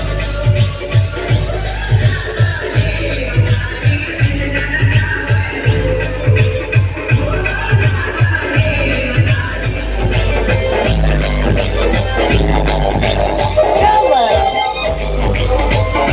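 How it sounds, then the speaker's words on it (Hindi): A dense, loud crowd fills a temple festival procession during a kanwar yatra for Mahadev, with rhythmic thumping and a constant roar of many voices, and someone talking close by throughout. "बहुत ज्यादा शोर शराबा भीड़ भड़का"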